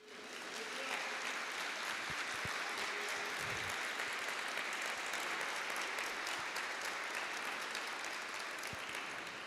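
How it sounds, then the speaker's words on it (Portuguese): A church congregation applauding during a morning service, a steady, continuous roar of many hands clapping heard at a distance and fairly faint throughout. "aplauda o Senhor nesta manhã"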